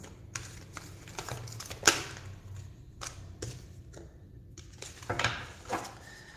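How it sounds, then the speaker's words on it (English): Tarot cards shuffled by hand, giving irregular soft taps, thumps and riffling clicks, close and quiet with occasional louder slaps. "We'll just wait for that to come up and we'll shuffle for Capricorn."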